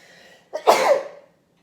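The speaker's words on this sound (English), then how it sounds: "I need to sneeze actually." A single close, loud sneeze from a person bursts out after a moment of quiet, sharp at the onset and then trailing off into silence.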